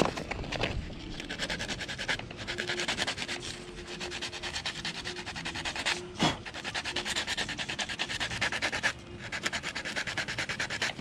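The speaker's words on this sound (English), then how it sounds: "I'm just gonna hit this with some old ADI grit I have right here to finish hand sanding it." Hand sanding a Cuda rocker molding with fine-grit sandpaper: steady, close, raspy rubbing strokes run continuously with a few brief pauses, and no one talks.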